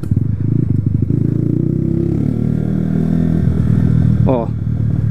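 A 2008 Honda CG 125 Fan motorcycle engine idles with a throaty, pulsing rumble and rises briefly as the throttle is blipped, close and loud, with a short metallic clatter near the end.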